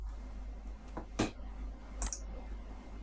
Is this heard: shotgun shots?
no